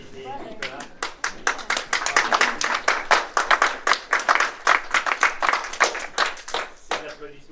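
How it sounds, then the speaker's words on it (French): Audience at a press conference claps in a sharp, distinct burst of individual hand claps that rises, stays lively, then tapers, with some speech over it. "Ces applaudissements pour vos 300 mérités."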